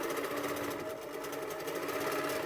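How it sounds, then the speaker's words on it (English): A quilting sewing machine stitching a quilt with a channel lock hums with a steady, fast, even mechanical chatter, close and continuous without pause. "So if we want to base down the sides of the quilt, we could do a channel lock."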